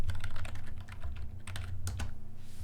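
Fingers type on a computer keyboard in a quick run of close, crisp key clicks over a low steady hum, with a brief pause before a few final taps.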